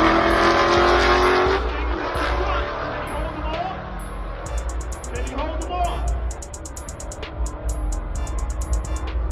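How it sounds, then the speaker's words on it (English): A Nissan GT-R and a Lamborghini roll race at a Texas drag event: engines roar loudly as the cars accelerate and pass, with crowd noise and people talking throughout and faint beeping in the background. "this is a GTR versus Lambo in a roll race"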